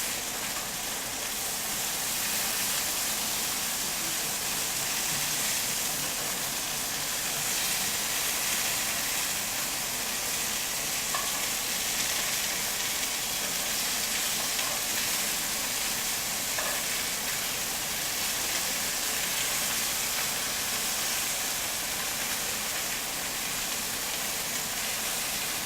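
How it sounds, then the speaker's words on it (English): A chicken roulade filled with spinach and feta sears in a hot pan, giving a steady, loud sizzle with a broad hiss that holds evenly throughout, with no talking over it. "we want to sear it on all sides"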